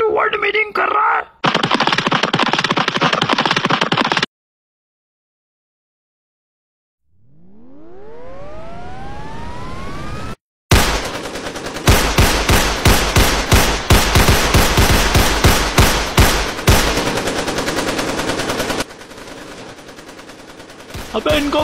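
Video game gunfire comes in dense bursts of rapid machine-gun shots and sharp single cracks, loud and close, separated by a silent gap and a rising whooshing tone, with voices mixed in at times.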